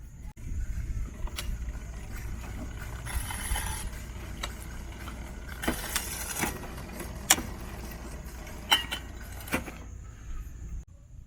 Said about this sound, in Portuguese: vou dar uma pedalada e vou pedir para a Bianca, com a outra mão, num estilo polvo, ela mudar a marcha